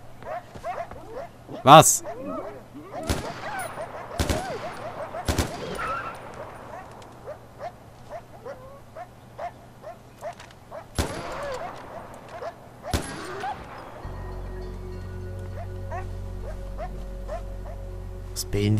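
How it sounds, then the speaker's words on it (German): Several dogs bark in the Far Cry 4 video game, sharp yips and woofs scattered through the scene with loud gunshot-like cracks, under someone talking, before game music takes over at the end. "Was bellen die denn da an?"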